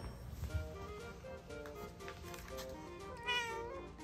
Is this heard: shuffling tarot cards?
no